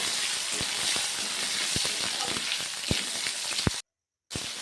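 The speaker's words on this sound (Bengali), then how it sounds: "ওই মাছ ভাজা তেলের ভিতরেই আমি এখন দিয়ে দিচ্ছি 1 চামচ কালো জিরে। সেটাকে আমি একটু ভালোভাবে একটু ভেজে নিচ্ছি যাতে পুড়ে না যায়।" Black cumin seeds and chopped tomato sizzle in oil left from frying fish, a steady close crackle with sharp pops and stirring clicks, cut off by a brief silence near the end.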